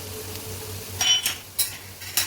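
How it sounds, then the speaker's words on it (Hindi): Mushrooms with black pepper, salt and oregano stirred in a pan, a soft sizzle under a few distinct scraping strokes of a utensil against the pan, close and fairly quiet. "अब इनको मैं अच्छे से मिक्स कर लूँगी ताकि जो मसाले हैं वो मशरूम में अच्छे से धंस जाएं।"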